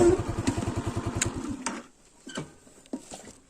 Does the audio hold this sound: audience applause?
no